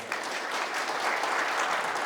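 Audience applause after a lecture at a shared-growth forum, a steady dense clapping from a crowd that holds at an even level throughout, with no speech over it.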